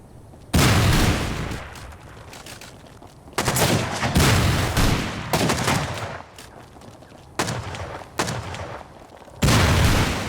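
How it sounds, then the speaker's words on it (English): Rockets fired at a player base during a raid in the video game Rust: loud, heavy explosive blasts hit in separate bursts, each with a sharp onset and a rumbling tail, with no talk. "They are now firing rockets to get to the higher levels that C4 cannot reach."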